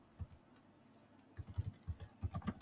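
Fingers tap on a computer keyboard, starting with a single click and then a quick burst of soft, close keystrokes in an uneven rhythm, with no voice.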